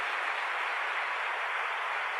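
Church congregation at a Spanish-language Sunday service giving sustained applause, a dense, even wash of many hands clapping at steady volume with no talk over it.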